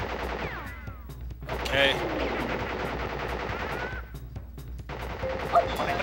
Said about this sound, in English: Ah, Tommy guns. Weren't they grand?